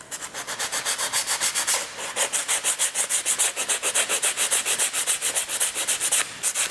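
Hand sanding excess wood filler off a wooden surface, a steady run of quick, rhythmic scratchy strokes, close and even, with one brief pause partway through.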